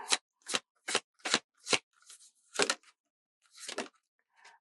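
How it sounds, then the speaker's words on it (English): Oracle cards are drawn from a deck in a series of about nine sharp, close snapping slides, evenly spaced at first and then looser, with silence between them. "I'm going to pull you actually two of these oracle cards as well"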